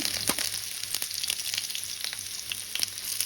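Chopped ginger and garlic frying in mustard oil give off a close, continuous sizzle, broken by scattered sharp pops and crackles.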